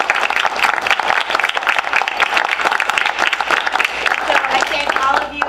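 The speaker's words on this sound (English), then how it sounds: "let's offer her a round of applause" Audience applause at an evening lecture and book-signing event at the Library Company, with sustained, fairly loud clapping from a seated crowd throughout.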